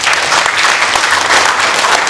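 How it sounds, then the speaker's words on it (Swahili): A crowd of spectators at a regional football club event bursts into loud, steady applause, continuous clapping throughout with no voices standing out. "Tumpigie makofi."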